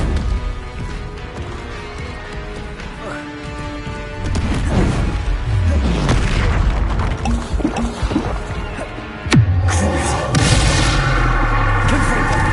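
Confringo fire-spell blasts in Hogwarts Legacy, rumbling explosive bursts and crashes layered over game music, capped by a sharp, loud impact near the end.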